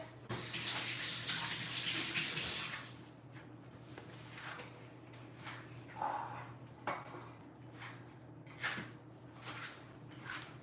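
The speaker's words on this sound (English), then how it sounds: "I just quickly rinse out the juicer" Tap water runs loudly for a few seconds while a juicer is rinsed out, then cuts off, followed by scattered clinks and knocks of the juicer parts being handled nearby.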